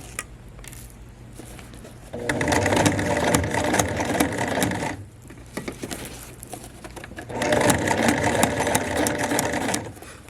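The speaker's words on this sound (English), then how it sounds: "Just remember to aim your sewing for the next pin in our imaginary line." A sewing machine stitches a pants waist seam in two steady bursts of rapid whirring and clatter, with a quiet pause between them and faint handling noises around the stitching.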